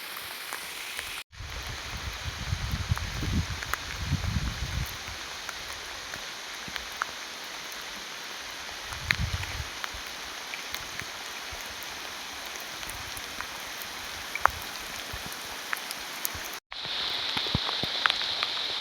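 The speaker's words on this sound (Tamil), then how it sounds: "சரியான மழை பெய்யுது." Steady heavy rain pouring near Sanmuganthi Dam in the mountains, a dense continuous hiss of falling water with brief low thumps and crackles, heard on its own without talk.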